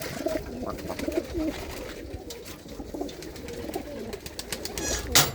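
Pigeons of fine breeds kept for sale cooing softly and repeatedly at close range over steady background noise, with a brief flutter or rustle near the end.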